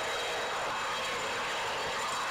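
A helicopter hovers in Microsoft Flight Simulator X, a steady broadband rotor and engine roar holding even and moderately loud throughout, with no voices.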